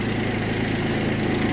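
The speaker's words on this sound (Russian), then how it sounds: "замок зажигания и запуск трактора" Mitsubishi MT165 Japanese tractor's engine idles with a steady, low, throbbing rumble, close and constant throughout with no talk.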